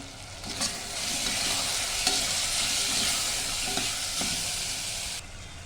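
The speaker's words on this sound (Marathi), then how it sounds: "हे सगळं परतून घेते मी आता" Kitchen king and biryani masala sautéing in a pan for masala rice, giving a steady close sizzle with a few soft spatula scrapes and taps throughout.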